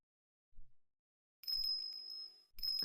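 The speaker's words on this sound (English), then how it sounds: "What was that tinkling sound?" A small bell in the Ace Attorney Investigations 2 game rings out with bright tinkling tones in two separate rings, each starting with a soft low thump and ringing clearly and close.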